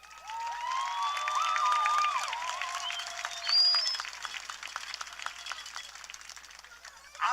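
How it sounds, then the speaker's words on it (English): Crowd applause and cheering at a youth football event fill the space, with scattered shouts and whistles riding over steady clapping that swells early and then tapers. "Can we give one big round of applause before we get started for all these amazing kids?"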